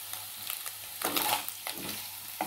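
Potatoes fry with a sprinkle of red chili powder for an aloo chaat, a steady close sizzle with stirring scrapes rising in bursts, no voices.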